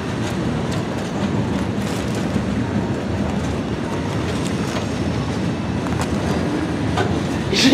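CSX freight train Q410, led by locomotive 5426 and hauling trash cars, rolls past close by with a continuous heavy rumble and rhythmic wheel clatter that stays loud from start to finish.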